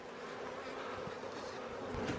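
Honey bees buzzing at an opened hive during a spring inspection, a dense, steady, close swarm drone lasting the whole stretch with no voices.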